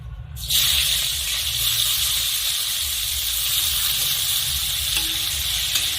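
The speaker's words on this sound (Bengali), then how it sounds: "তেল ভালো মতো গরম হয়ে গেছে, এখন আমি কুচিয়ে নেওয়া পেঁয়াজ দিয়ে দিচ্ছি" Chopped onions hit hot oil and burst into a loud, steady sizzle that holds for several seconds after the first splash, cooking for a Bengali bata fish dish.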